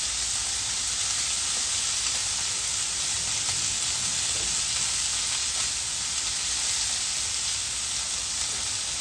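Food fries in a pan with a steady, loud, unbroken sizzle and hiss that runs evenly throughout with no talking.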